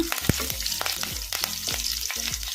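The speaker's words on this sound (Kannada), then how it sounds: "ಒಂದು ಸ್ವಲ್ಪ ಸಾಸಿವೆ ಜೀರಿಗೆ ಹಾಕೋಣ ಸ್ವಲ್ಪ ಕರಿಬೇವು ಹಾಕೋಣ ಕಲಿಸ್ಕೊಂಡ್ಬಿಡೋಣ" Mustard seeds, cumin and curry leaves sizzle and crackle in hot oil, a steady frying hiss with sharp pops scattered throughout, close and fairly loud, while a spoon stirs the pan; no one speaks.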